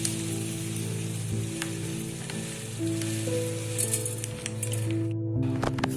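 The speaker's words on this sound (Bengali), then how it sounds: "তো এখানে চাল দিয়েছি" Gobindobhog rice sizzles and crackles in a hot pan, a steady close frying hiss with faint stirring clicks and a low background hum throughout.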